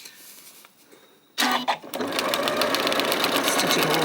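A sewing machine runs in a fast, even whir while stitching a quilt fabric seam, starting abruptly after a quiet moment with a few short bursts before settling into steady stitching.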